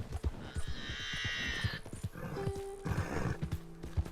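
A horse in Red Dead Redemption 2 gives a loud, drawn-out neigh while hooves clip-clop steadily beneath it, with other in-game farm animal sounds close by.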